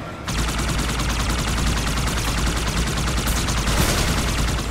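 Sustained automatic gunfire in Halo 2 during the Arbiter mission, a loud, dense, unbroken burst of rapid shots that starts abruptly and keeps going throughout, with no voices.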